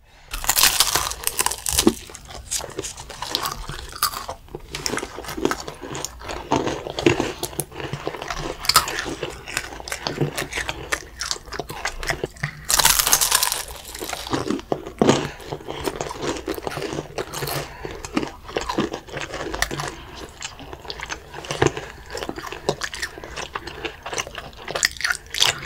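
Crisp nougat cracker crunched and chewed close to the mic, with loud repeated bites and snaps, then steady wet mastication, alone without talk.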